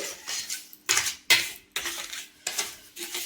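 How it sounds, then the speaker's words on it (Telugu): A spoon stirs lemon juice and sugar in a bowl, giving a series of bright clinking scrapes against the dish in short separated bursts, close and fairly loud, with no talking. "మనం ఒక స్పూన్ అనేది తీసుకొని ఇలాగా జ్యూస్ అంతా మనకి చక్కెర పట్టుకునేలాగా కలుపుకోవాలండి"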